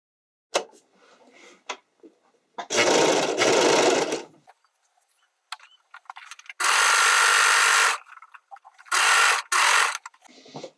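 A sewing machine inserts elastic at the shoulders of an underwire bodysuit in short bursts of fast, whirring stitching separated by pauses filled with small clicks and handling noises, close up.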